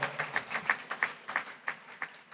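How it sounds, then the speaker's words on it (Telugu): An audience claps along in a steady, quick rhythm during a Telugu sermon. The individual claps are distinct and fairly faint, and no one speaks over them. "చప్పట్లో"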